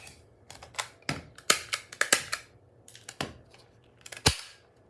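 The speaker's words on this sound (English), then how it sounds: "I don't know what's wrong with my stapler, but it does not want to work." A desk stapler firing staples on a workbench while specimen slides are made from old camera filter holders: a quick series of sharp, close metallic snaps and clacks in an irregular rhythm, several louder than others, with no speech.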